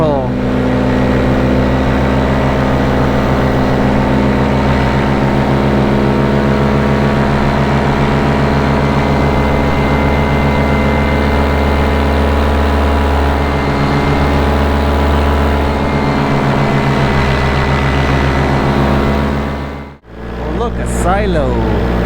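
A small aircraft engine drones steadily in flight, a loud, even hum with strong tonal layers, broken by a sudden brief dropout near the end. A voice talks over it. The engine is due for refurbishing and a slight overhaul.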